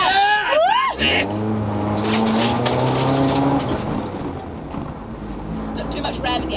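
Rally car engine over-revving during a drive at a rally school, with high revs climbing and holding loud and close inside the car, and people talking over the engine.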